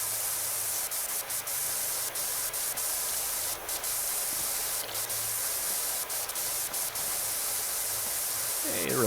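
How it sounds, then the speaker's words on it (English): A steady, loud hiss of a pressure washer spraying in PowerWash Simulator 2 runs continuously, broad and close with brief dips and small clicks, no talk over it. "You can just jump and spray."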